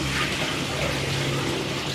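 An automatic sensor toilet flushing, a steady loud rush of water filling the whole moment without pause, with no talking heard.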